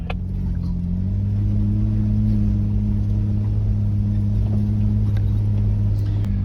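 A vehicle engine hums steadily from inside the cabin while driving along a wet forest track in Stanley Forest, a constant low drone with a slight shift in pitch and no talk.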